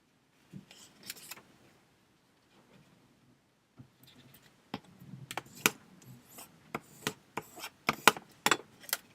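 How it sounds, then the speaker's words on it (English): Paper folded and creased for an origami Christmas tree card, with soft rustles followed by a run of crisp, close creasing snaps and taps growing busier toward the end, no talking. "Fold it in half diagonally, opposite corner to opposite corner."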